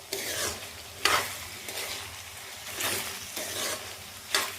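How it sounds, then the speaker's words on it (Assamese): Spices with nigella and mustard seeds fry in hot oil in a wok while a spoon stirs them, a steady sizzle broken by several loud scraping strokes at a loose rhythm. "অলপ সময় ভাজিম।"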